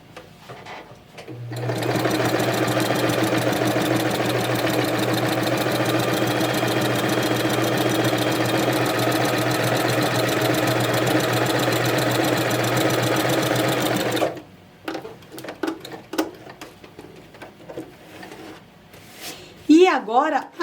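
A domestic sewing machine fitted with a closed straight quilting foot stitches a cross seam, running steadily and loudly for about thirteen seconds before stopping, followed by faint handling noises.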